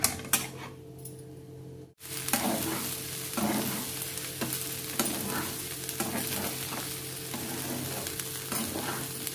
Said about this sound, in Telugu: 2-3 నిమిషాలు మనం ఈ అన్నాన్ని కలుపుకుంటూ ఫ్రై చేసుకుంటే చాలండి